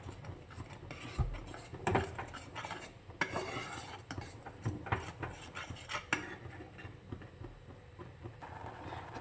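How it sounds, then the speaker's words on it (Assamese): A cardamom milk sweet being stirred in a pan: repeated scraping and clinking of a metal spoon against the pan, uneven and fairly quiet, with no speech. "আকৌ লৰাই থাকিম এনেকৈ যেতিয়ালৈকে ইয়াৰ হেৰিটো ওলায়, ক্ৰীমখিনি ওলায়,"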